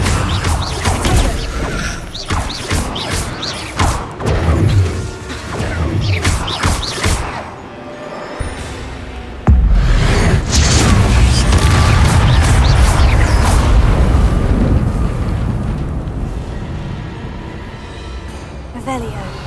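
The Incendio fire spell being cast in Hogwarts Legacy: loud whooshing, booming bursts with crashing impacts, heavy and close, while a voice speaks over the game sound.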